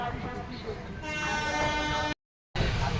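Doon Express train at Varanasi Junction sounding its horn, a loud, sustained tonal blast over heavy rumbling railway noise, briefly cut to silence before the noise resumes.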